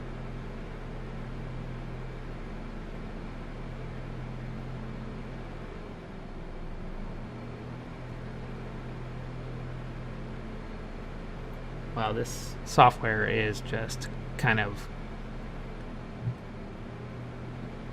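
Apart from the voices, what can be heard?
computer fans running loud in performance mode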